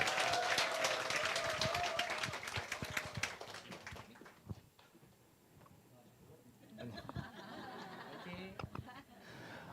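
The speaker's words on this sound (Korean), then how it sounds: "큰 박수 한번 부탁드릴게요." A Korean business briefing audience breaks into dense, loud applause mixed with chuckles and laughter, which then fades to scattered claps and murmuring before a voice begins speaking.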